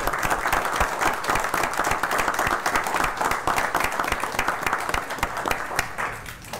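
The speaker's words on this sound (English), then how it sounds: "let's have a round of applause for everything they do" A council meeting audience gives a steady, dense round of applause for police officers, many hands clapping together at close range and holding an even level throughout without pause.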